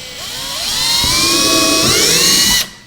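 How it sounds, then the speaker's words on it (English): A small drill bit whines at high pitch, rising as it bites into a mold, then cuts off abruptly; close and loud, no talking. "just drill straight through with my small drill bit"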